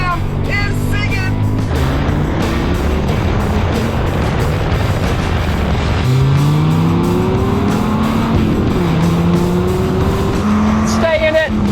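A Chevy Corvette ZR-1 with dual overhead cams and a Dodge Viper drag race from the line, engines revving hard through rising gear pulls and shifts, loud and close, with excited voices shouting at the start and end.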